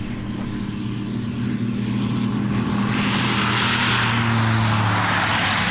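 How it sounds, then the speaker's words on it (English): A propeller airplane at a gathering of aircraft in the Kalahari Desert drones loudly and steadily, its pitch and roar building as it throttles up for takeoff. "My airplane flying without me inside it."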